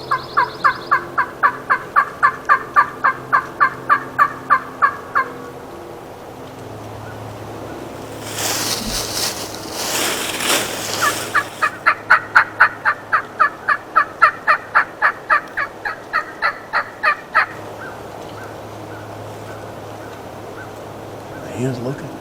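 A wild turkey in a field calls in loud, rapid, evenly spaced bursts in several long runs. Between the runs comes a stretch of broadband rushing noise like wind.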